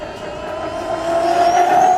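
Redcat Racing Kaiju RC monster truck at full throttle, its electric motor whining in a steady high-pitched drone that builds and rises toward the end, no talking.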